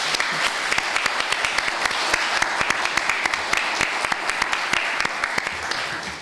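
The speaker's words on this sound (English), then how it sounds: "I think you can clap for each of these statements." Applause from an audience at a political candidate forum, a moderate, fairly distant patter of many hands with sharper individual claps standing out, continuing steadily.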